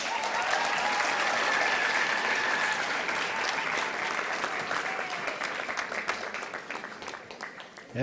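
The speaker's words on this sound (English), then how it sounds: "Let's please keep the applause coming." Sustained crowd applause at a university graduation ceremony in Windhoek, a thick, even roar of many hands clapping that stays strong and slowly thins into more distinct claps near the end.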